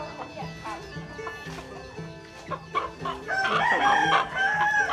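Chickens cluck steadily in a yard in front of a house where over a hundred birds are raised, then a rooster crows loudly and nearby over the flock's chatter.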